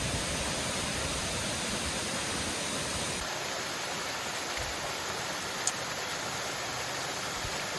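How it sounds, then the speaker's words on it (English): A small waterfall pouring into a pool beside the Appalachian Trail gives a steady, broad wash of rushing water, even and continuous throughout, with no voices over it. "Nice little waterfall and a pool of water, deep enough to go into."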